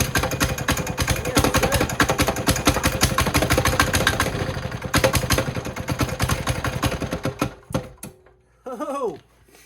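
A cheap single-cylinder diesel engine starts and runs with a fast loud clatter for about eight seconds, then cuts out, leaving a brief quieter tail with a voice.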